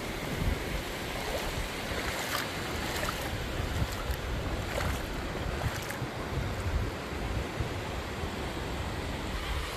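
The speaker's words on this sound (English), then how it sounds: "You got a little bit of water trickling through here." Shallow water trickling between sandbars on a beach at Pawleys Island, South Carolina, a steady hissing wash blended with surf and wind buffeting the microphone.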